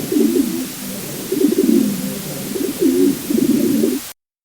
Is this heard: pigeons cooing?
yes